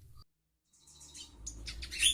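Remetuk songbird (Shinchan bird) chirping, a run of quick, high, faint tweets building after a brief silence.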